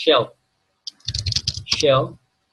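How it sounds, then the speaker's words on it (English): Keys clatter on a computer keyboard as a command is typed into a Kali Linux terminal: a quick run of close, crisp clicks sits between short bursts of a voice. "By simply typing shell."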